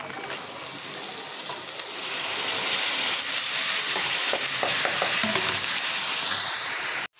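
Potatoes go into hot oil where dried fish, onion, bay leaf and spices are already frying, making a loud continuous sizzle with scraping stirring sounds. The sizzle swells after the first couple of seconds and cuts off sharply at the end.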